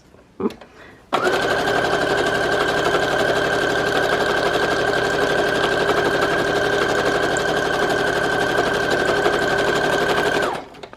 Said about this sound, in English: I'm going to sew down at the bottom